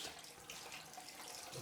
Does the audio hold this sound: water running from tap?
yes